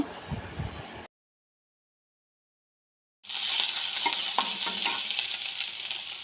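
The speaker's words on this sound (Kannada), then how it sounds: "ಹಸಿಮೆಣಸು, ಚೆನ್ನಾಗಿ ಫ್ರೈ ಮಾಡುವ" Oil with mustard seeds, cumin, curry leaves, onion and green chili frying in a pan: brief stirring, then an abrupt silent gap, then a loud, steady close sizzle with occasional scrapes.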